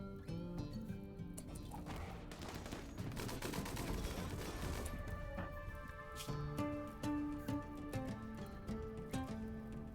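Gunfire from colonists in RimWorld, a dense fusillade of repeated shots with music-like tones running beneath, fairly steady across the whole stretch.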